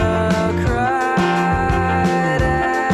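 Verse of a song with noodly guitar lines and Rhodes electric piano parts over a steady beat, heard in mono through a compressor, loud and continuous with no talking.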